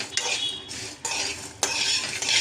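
Sesame seeds and spices stir-fried in a hot pan for a bitter gourd masala gravy, three bursts of a metal spoon scraping and clinking against the pan, each about half a second, close and sharp, with faint sizzling between and no speech.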